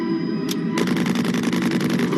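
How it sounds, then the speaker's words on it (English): Rapid sci-fi gunfire effect, a fast, loud stream of repeated shots starting after a brief tonal hum and continuing without pause to the end. "They're shooting at us."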